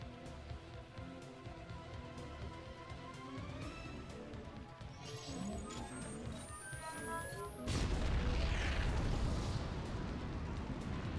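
Base destruction in the video game StarCraft 2, with a sudden loud explosive crash about two-thirds through, followed by a sustained roar of blasts and debris over tonal game sounds.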